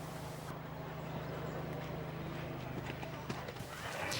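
Horse hooves clip-clop on the ground at a 1993 eventing horse trials at Dynes Hall, with a commentator talking over the steady rhythmic footfalls and a low hum running beneath.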